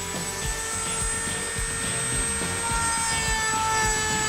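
A high-speed rotary tool with a cutter accessory runs at mid-high speed, producing a steady, close high-pitched whine with a faint rhythmic low pulsing beneath it.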